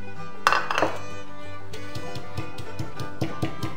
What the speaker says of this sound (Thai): เดี๋ยวเรามาตำงานะครับที่คั่วสุกแล้วครับ